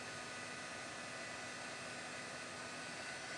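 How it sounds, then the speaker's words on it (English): Steady broadband whoosh of a heat gun blowing for embossing in an art journaling setup, continuous and fairly loud with no pauses or talk. "This is a heat gun."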